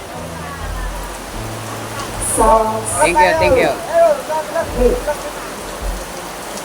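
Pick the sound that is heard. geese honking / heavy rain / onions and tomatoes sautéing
heavy rain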